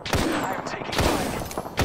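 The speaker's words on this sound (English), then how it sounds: "I'm taking fire." Dense, rapid gunfire in the video game Apex Legends, a continuous loud fusillade of overlapping shots filling the whole short burst, close and unrelenting.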